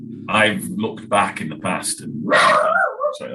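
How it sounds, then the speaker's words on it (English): A pet dog barks and yips in bursts during a conversation about songs, someone speaking over and between the short sharp barks, close to the microphone. "that's my dog going on"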